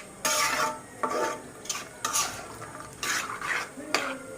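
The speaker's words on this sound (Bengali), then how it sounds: "দুই 3 মিনিটের মতো আমি এইভাবে কষিয়ে নিব বিচিটাকে।" Bean seeds sautéed in a pan and stirred with a utensil, giving repeated scraping strokes about once a second over a soft sizzle, close and alone without talk.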